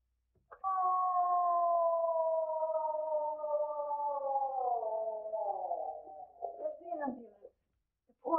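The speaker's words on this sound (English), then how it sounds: "Ambulance." Ambulance siren wailing loudly and steadily near at hand, its tone sliding slowly downward before breaking up and fading at the end.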